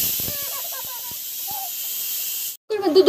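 Steady, loud hissing of steam from a pressure cooker whistle fills most of the clip, with faint tonal chirps at the start, then a brief cut and a burst of clattering.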